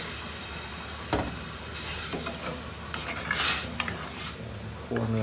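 A pot of stewed mouse deer (aom) bubbling and steaming on the heat, a rough hissing boil with scattered stirring knocks and clatters, fairly close, with no voices over it.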